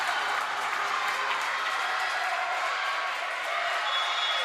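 A volleyball crowd applauds and cheers after a big booming kill, a dense, loud wash of clapping that carries on evenly for the whole stretch.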